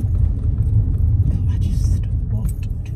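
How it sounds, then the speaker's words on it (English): Steady low rumble of road traffic passing outside a home, a continuous engine drone with faint higher clinks and rustles over the top, fairly loud and unbroken throughout. "what is all this traffic?"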